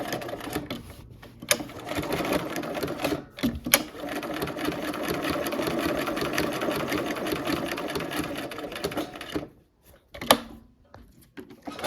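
A sewing machine runs steadily while stitching decorative stitches, a continuous mechanical whir with brief pauses and clicks near the start and end.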